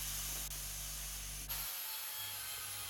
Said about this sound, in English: Then I can grind it down with my flapper wheel to remove the excess weld and material